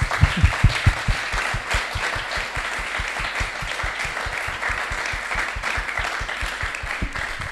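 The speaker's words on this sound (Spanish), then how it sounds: "otra vez un último aplauso para ya dar esto como finalizado" An audience at the end of a business talk applauds, starting with a few loud individual claps before settling into sustained, dense clapping that continues steadily.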